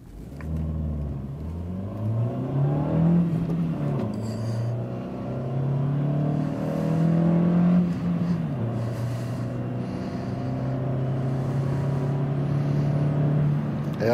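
A 2019 Dacia Duster SCe 115 4x2 accelerating hard in an intermediate sprint, its engine note climbing in steady pulls through gear changes, heard from inside the cabin under constant road rumble.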